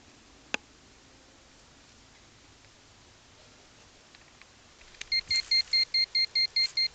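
A metal detector sweeping over a buried target in wooded ground gives a run of regular, evenly spaced electronic beeps near the end, after a quiet outdoor stretch with a single sharp click.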